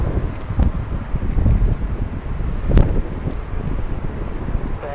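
Gusty wind buffets the microphone at Los Angeles International Airport, a steady low rumble rising and falling throughout, with a brief sharper knock near the middle and no voices.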